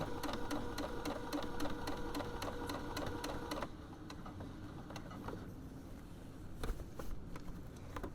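A home sewing machine stitches slowly around the inner curve of a small round drawstring pouch, a fast even needle clatter for a few seconds that then stops, leaving faint handling sounds.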